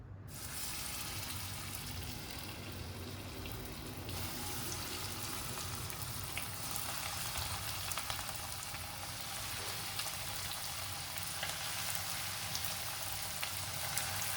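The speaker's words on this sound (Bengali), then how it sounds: "এবারে তেলটা গরম হয়ে এসছে, আমরা একটা একটা করে চিকেনগুলোকে ছেড়ে দেবো।" Chicken popcorn pieces for a homemade KFC-style fried chicken dropped into hot oil, producing a continuous dense hissing fry that holds steady throughout, with no voices.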